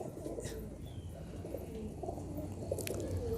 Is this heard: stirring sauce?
no